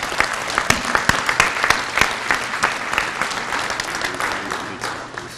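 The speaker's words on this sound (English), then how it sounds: "So please give them another round of applause." A crowd at a police awards ceremony claps steadily in sustained applause, dense and close, gradually tapering toward the end.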